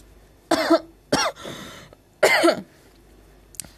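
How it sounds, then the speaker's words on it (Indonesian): Three sharp coughs ring out close to the listener in quick succession, with a short gap before the last, then quiet. "Sorry kalau misalnya aku batuk-batuk."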